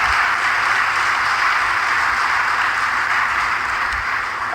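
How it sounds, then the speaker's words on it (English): Sustained crowd applause at a political declaration event for the MFA team, dense steady clapping filling the whole stretch at an even, loud level with no talk over it. "Can you kindly give them a round of applause"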